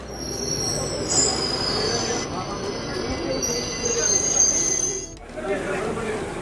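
A train's wheels squeal with high-pitched screeches over a steady rumble of railcars, with a brief dip near the end; busy ambience throughout at Kannur railway station.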